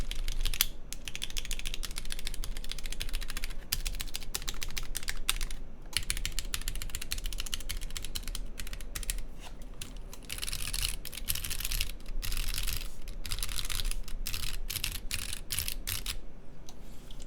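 Typing on a Sensy Lab Seal80 mechanical keyboard with a rattly backspace makes close, continuous clacking keystrokes in uneven bursts, with brief pauses between runs. No voices.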